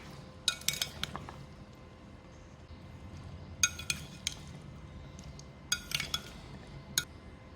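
A spoon mixing tamarind pulp and spices in a bowl for chana chaat, giving bursts of bright metallic clinks and scrapes in short clusters with quieter gaps between, close and without talk.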